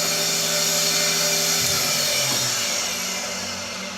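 A homemade toolpost grinder mounted on a lathe runs with a steady high-pitched whine, close and loud, with a slight dip in pitch midway and a gradual fade at the end.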